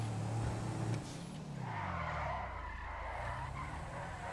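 A car in GTA 5 Online skids and squeals its tires, with engine roar throughout. The screech is loudest in the first second, then drops to a steady droning drive with no talking.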